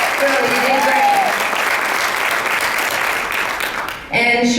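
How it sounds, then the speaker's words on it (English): An evening keynote audience claps in a sustained, dense round of applause that fades slightly before breaking off, with a voice cutting in at the end. "give her another big round of applause"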